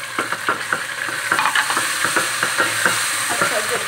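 Aubergine, peas and potato curry stirred in a pan, with a steady hiss of frying under a brisk, regular series of spatula scrapes and taps against the pan.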